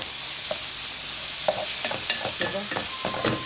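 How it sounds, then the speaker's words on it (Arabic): Tripe is stirred with onion and pepper in a sizzling pan, a steady frying hiss broken by close, irregular scraping and clacking strokes of the utensil against the pan. "نقلبها كويس قوي مع بعضها كده مع البصل والفلفل."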